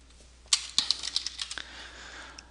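Quick, irregular keystrokes tapped on a computer keyboard as a name is entered, a close burst of clicks that thins into lighter scattered taps before stopping.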